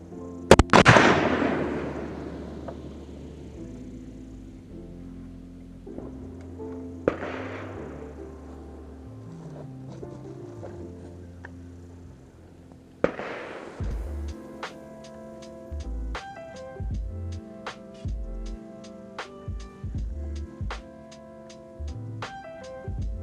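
M4 rifle fired from a standing offhand position at 50 meters on an outdoor range: a sharp, loud report at the start, two more spaced shots, then a rapid run of crisp cracks, with ringing tonal noise lingering underneath.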